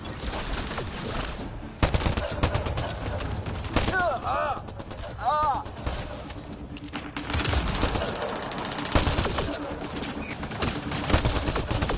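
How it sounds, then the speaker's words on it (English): Sustained automatic gunfire from a Mass Effect Andromeda battle: dense, rapid bursts of shots rattle continuously throughout, with sharp louder volleys standing out over a busy combat backdrop. "Just keep firing, we can do this!"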